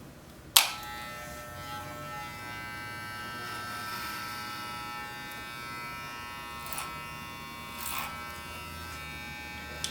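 A hair clipper buzzes steadily and close during a freehand fade haircut, a continuous electric hum with a sharp start and brief bumps as the clipper meets hair or comb, no talking.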